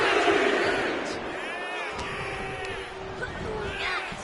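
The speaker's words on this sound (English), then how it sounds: "And Nia is revving this crowd up." An arena crowd in the WWE 2K25 wrestling video game roars and whoops continuously, a dense swell of cheering and shouting heard over several seconds.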